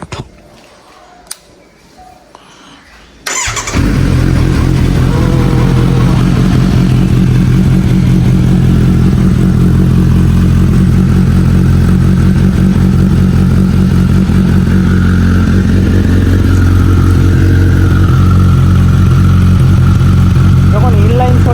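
A naked beast motorcycle is cranked up after a quiet moment. Its engine catches suddenly and settles into a loud, steady, rumbling idle close by for the rest of the clip.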